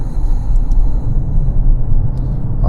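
A 2021 Maserati Levante S SUV with its Ferrari-built engine drives along, giving a steady low rumble of engine and road noise heard from inside the cabin, continuous and fairly loud with no talking.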